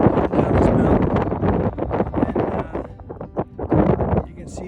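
Gusting wind buffets the microphone on an Appalachian Trail mountain descent, a loud, steady roar with rising and falling gusts, while a person talks over it throughout.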